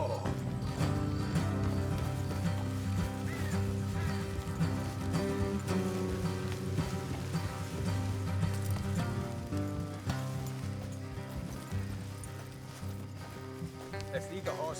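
Horse hooves clip-clop at a steady trot in Red Dead Redemption 2 over a dense bed of background music, with a voice briefly audible.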